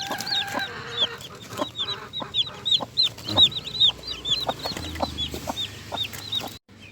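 A mother hen clucking close by over a chorus of many high, repeated chick peeps, with a rooster crowing briefly at the start and soft handling noises in between.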